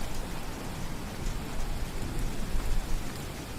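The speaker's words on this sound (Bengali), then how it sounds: "বাইরে একেই মুষলধারে বৃষ্টি, তার উপর থেকে থেকে বাজ পড়ছে।" Heavy cartoon rain pours in a steady, dense hiss, with a low rumble of thunder swelling underneath now and then; no voices break through.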